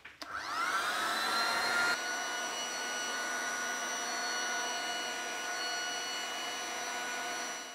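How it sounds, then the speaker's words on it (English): A hairdryer blows steadily and close up while heating the laminate edge strip of a bench-top, a continuous whooshing whine that holds its level for several seconds before cutting off. "on this piece, I'm gonna try it with the hairdryer"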